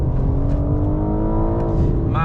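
A BMW G82 M4 at full throttle in first gear, its engine note climbing steadily in a loud, close, harmonic-rich drone heard from inside the cabin.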